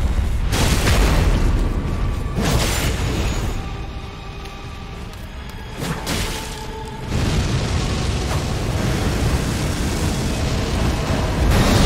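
An explosion in Elden Ring Shadow of the Erdtree opens with a heavy boom, then more booming impacts and rumbling game effects follow over several seconds, loud and dense.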